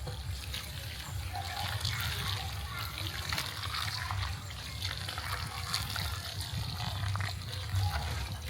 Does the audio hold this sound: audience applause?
no